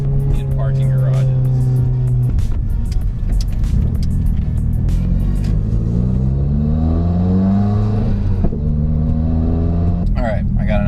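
A dyno-tuned 300 hp Subaru WRX revs and accelerates loudly inside a parking garage, its engine note climbing in rising sweeps through gears with a booming, echoing rumble and brief pops near the end.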